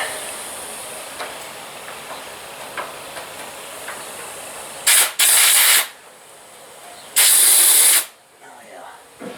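Grease gun pumping fresh grease into a bearing on a DR wood chipper, heard as two loud, sustained hissing bursts of a second or so each, with faint clicks and low background noise before them.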